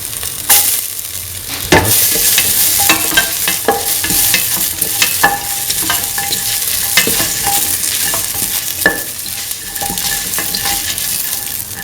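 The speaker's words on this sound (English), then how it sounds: "thoroughly mix the ginger and the rest of the mixture" Ginger stirred into a frying lentil, snake gourd and coconut milk stew, with constant loud sizzling close up and irregular sharp scrapes and clinks of the spoon against the pan.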